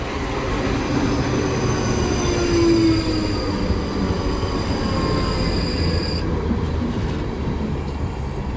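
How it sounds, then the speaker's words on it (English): A train pulling into Windsor and Eton Riverside station, a loud continuous rumble of wheels and carriages with a long metallic squeal that drops away near the end, no talk. "arriving in now is going to be the 1652 service to Windsor and Eton"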